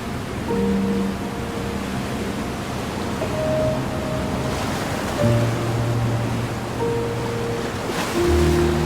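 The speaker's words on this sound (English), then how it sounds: "The deafening roar of the advancing wave gives it an almost mythical presence." The roar of the Amazon River tidal bore, a wave up to 13 feet high advancing upstream, comes through as a continuous broad rushing surf noise with steady loudness, overlaid by faint tonal hums and no speech.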